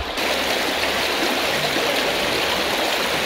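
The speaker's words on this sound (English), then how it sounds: "and then the water runs from underneath them." Stream water gushing out from beneath the limestone cliffs at Malham Cove in the Yorkshire Dales in winter, a steady, loud, close rushing flow with no voices over it.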